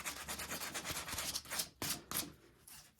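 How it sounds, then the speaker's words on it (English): Sandpaper rubs back and forth over a small nub of cured epoxy on a ski top sheet, a close, steady series of scratchy strokes with a few brief pauses near the end. "I'm going to sand that down as well."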